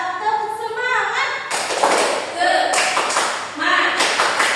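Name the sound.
class doing a rhythmic 'tepuk semangat' clapping chant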